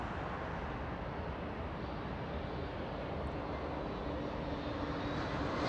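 A SkyWest airliner arriving at Los Angeles International Airport on approach from San Francisco gives a steady, broad jet engine rumble that stays constant and moderately distant throughout.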